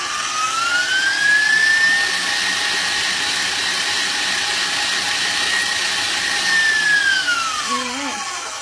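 An electric mixer beats tres leches cake batter at a raised speed, a loud, steady close whine with a slowly shifting pitch that runs throughout.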